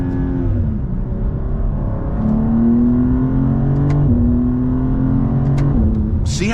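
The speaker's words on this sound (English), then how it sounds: "See how it just rips those shifts off? That is a torque converter automatic." A 2024 BMW M2 engine revs hard and loud from inside the cabin, its pitch climbing and dropping as the torque converter automatic snaps through paddle-shifted gear changes, with a smooth continuous drone and no talking.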